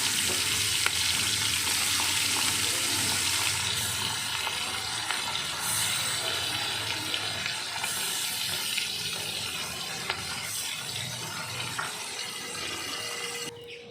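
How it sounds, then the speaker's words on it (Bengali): Small fish fry in a pan of oil before vegetables are added, producing a loud, continuous crackling sizzle that runs unbroken and alone, without speech. "মাছটাকে এখন আগে ভেজে নিচ্ছি"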